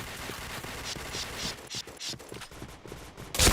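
Rapid automatic gunfire in the video game Point Blank, dense bursts of shots rattling loudly through the whole stretch, ending in a sharp louder blast, with no talk.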